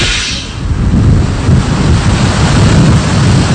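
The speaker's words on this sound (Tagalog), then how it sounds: "nakakaranas pa rin tayo ng napakalakas na hangin" Powerful gusting wind from a super typhoon roars continuously in Santa Rosa, Laguna, Philippines, heavy low rumbling with rushing noise, loud and close, with no speech.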